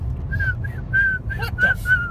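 Someone attempting to whistle, producing a series of thin, wavering short whistle tones with breathy gaps between them, close and fairly clear over a low background hum.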